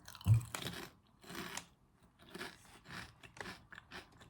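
Crunchy, chip-like snack resembling Sun Chips, broken into pieces, is bitten and chewed close up: one sharp crunch followed by several rhythmic, crackly chews in fairly quiet surroundings.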